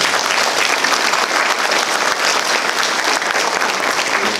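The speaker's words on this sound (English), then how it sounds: "Let's give them all a round of applause." An audience at an electric cooperative's annual meeting gives loud, sustained applause, a dense and even wash of clapping that fills the room throughout.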